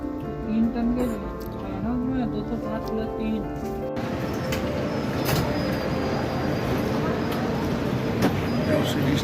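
The Kumbha Express pulls out of a railway station in India, a steady low rumble of rolling carriages growing denser and noisier, with voices and station bustle mixed in.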